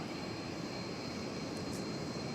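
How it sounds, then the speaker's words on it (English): UPS Boeing 747 and MD-11 jet freighters at DFW Airport, a steady broadband engine roar that holds even and fairly loud throughout, with no voices. "747 UPS on the right, and over there on the left we've got an UPS MD-11"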